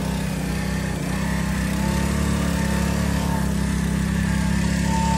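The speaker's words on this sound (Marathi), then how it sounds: "बघू शकता आपली सुरू झालेली बोट" Motor boat engine running on the Narmada river near Omkareshwar, a steady, close, loud drone with an even low hum that holds throughout, with no talking.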